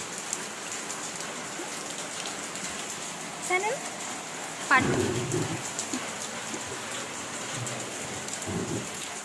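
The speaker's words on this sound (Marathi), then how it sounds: "असा हा धो पाऊस" Heavy monsoon rain pours steadily and evenly throughout, with a low rumbling burst midway that may be thunder, while someone briefly speaks over it.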